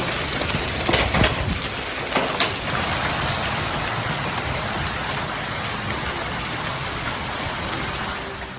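Hail driven by strong winds of up to 60 km/h during a Brisbane storm, a dense steady roar of pelting ice and gusts with a few louder bursts in the first seconds.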